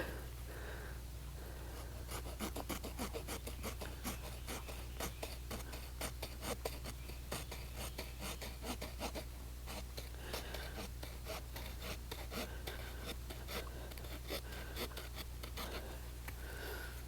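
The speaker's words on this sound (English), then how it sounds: "I'm actually going to take my saw out. And I'm going to cut it down a little bit." A hand saw cuts through a wooden stick for a figure-four deadfall trap, giving steady, rapid rasping strokes that run continuously and close up, with no talking.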